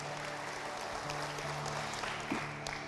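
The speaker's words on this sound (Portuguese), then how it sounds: "Se você é feliz com isso, aplauda a Jesus" A church congregation applauding during a Portuguese-language Lord's Supper service, steady dense clapping from many hands that stays fairly faint and even throughout, with a few voices faintly audible in the background.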